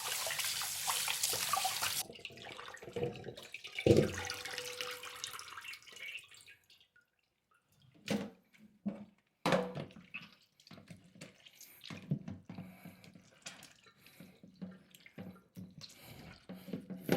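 Pork chops rinsed under a running kitchen tap, water splashing steadily into the sink for the first seconds, then intermittent bursts of flow and drips as the meat is handled, with quiet gaps in between.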